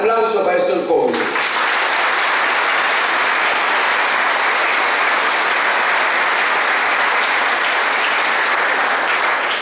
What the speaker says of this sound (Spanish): Un aplauso para estos jóvenes